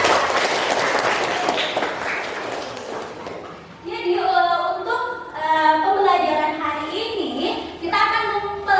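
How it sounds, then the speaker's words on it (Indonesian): A class of secondary-school students applauds for their classmates in a brief burst of clapping lasting a few seconds, followed by a teacher talking clearly over the quieter room. "Beri tepuk tangan untuk teman-teman kita."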